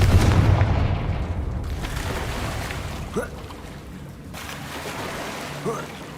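A Confringo blasting spell goes off in Hogwarts Legacy as a deep, booming explosion at the start that fades into a low rumble, followed by a couple of smaller, softer bursts.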